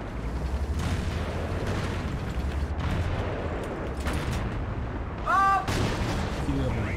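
A tank takes gunfire hits in the World of Tanks video game on the Minsk map, with booming impacts and shots at irregular intervals over a rumbling engine and a brief mechanical whine.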